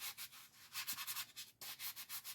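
Steady back-and-forth sanding strokes rasp in a quick, even rhythm, close by, with a brief pause partway through.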